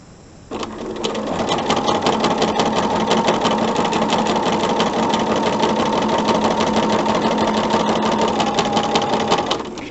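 A sewing machine chain-pieces quilt half square triangles, running in one steady, continuous rapid whirring stitch after a brief start, close and clear with no voices.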